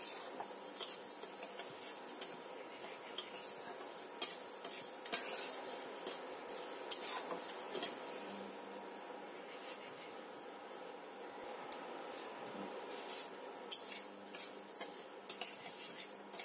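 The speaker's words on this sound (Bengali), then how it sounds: "মুগ ডালটা খুব ভালো করে ভেজে নেব" Mung dal dry-roasting in a pan, stirred continuously with a utensil that scrapes and clinks against the metal in a steady, busy rustle at close range.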